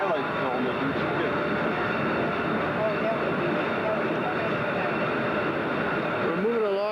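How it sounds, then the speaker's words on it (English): Steady rumble of a train rolling along as it enters a tunnel, a loud continuous roar with overlapping voices chattering throughout. "We're moving along on the train, just going into the tunnel"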